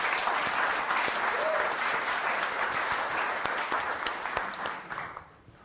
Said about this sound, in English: I would like to ask for a big applause for their team as well, please.